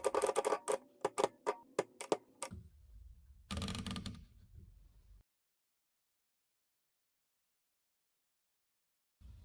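A button on a 1930 Mercedes 6 Express typewriter being pressed gives a quick run of sharp mechanical clacks, then a heavier clunk and a brief rattle, followed by silence and a faint click at the end.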